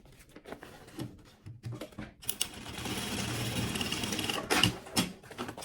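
A sewing machine runs a safety seam on sublimated maternity kit fabric. The motor whirs steadily for about two seconds after some handling clicks, then stops with a few short mechanical taps.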